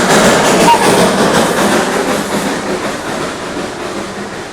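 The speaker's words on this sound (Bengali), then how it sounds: "দেখো গাইস সামনে টয় ট্রেন" A coal-fired Darjeeling toy train runs close by with a loud, continuous rumble and clatter that fades only slightly toward the end.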